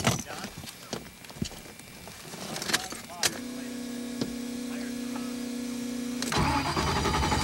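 A Corvette engine, not a standard one and fed by fuel pumps, cranks and fires up partway through, then settles into a steady droning idle close by after some knocks and clicks, and cuts off near the end.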